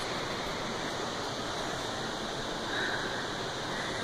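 Steady, dense roar of the El Chiflón waterfall cascade in Mexico, heard as continuous broadband rushing water close by with no pauses and no voices over it.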